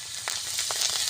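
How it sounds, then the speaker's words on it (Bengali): Green chillies drop into hot oil and sizzle faintly in a brief burst, with a few soft crackling pops over a quiet background hiss. "এটা কাঁচা লঙ্কা তেলে দিয়ে দেব"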